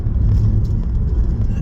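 Car interior drone while driving, a low steady rumble of engine and road noise with faint background sounds.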